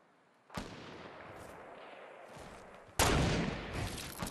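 A grenade launcher, the noob tube, fires in a video game, with a sharp blast at the start, a loud booming explosion about two seconds later, and rumbling aftermath.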